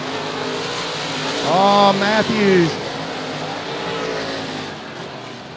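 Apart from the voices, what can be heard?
UMP open wheel modified race cars on dirt track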